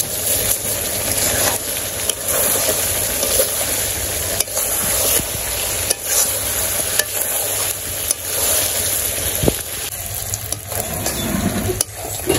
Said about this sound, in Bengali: আমার মাংস কষানো হয়ে গেছে